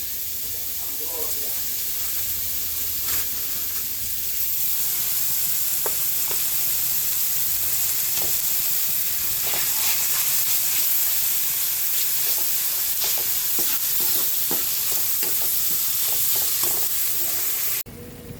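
Ground meat sizzling in a hot pan while being stirred, a constant frying hiss broken by frequent scraping clicks of the utensil, with faint talk in the background.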